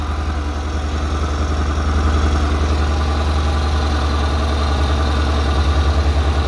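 A Yamaha Road Star Warrior motorcycle engine idles high with a steady, loud low rumble and an even pulsing throb that continues throughout, with no talking.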